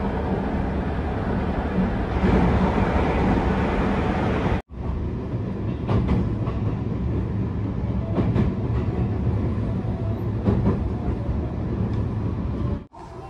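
JR 221 series rapid train running from Nara to Osaka via the Osaka Higashi Line: a steady, close rolling rumble with rail clatter inside the carriage, broken by two brief cuts.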